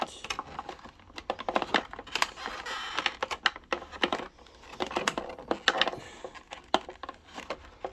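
Twist ties on the packaging of a NECA King Kong toy are worked loose by hand, giving quick irregular plastic clicks and crinkles that come in busy clusters, close and fairly quiet.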